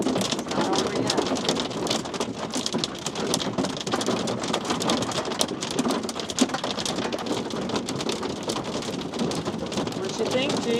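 Hail hammering the tin roof of a van during a hailstorm in Europe, a dense, unbroken roar of hard impacts close overhead, with a faint voice underneath.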